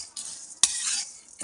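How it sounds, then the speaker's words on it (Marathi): Dal roasts dry in a hot kadhai, a brief burst of sizzling hiss with a sharp metal clink of the spoon as it is stirred quickly, close and fairly loud. "हे बघा, अशा पद्धतीने आपण ही डाळ अशी भाजून घेत आहोत."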